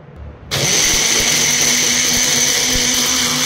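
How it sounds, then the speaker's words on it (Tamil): Kitchen blender whirring steadily as it purees egg and hibiscus leaves into a hair paste, starting abruptly and running loud and constant with no talk. "இப்போ பிளெண்ட் பண்ணி எடுத்துக்கலாம்."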